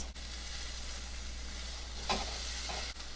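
A cheese-filled tortilla fries in a pan with a steady, close sizzle throughout, and a short scrape and shuffle partway through as it is readied for flipping.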